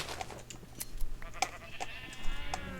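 Sheep bleat in a village-building video game, several short bleats scattered over a faint background of soft clicks, fairly quiet and with no talking.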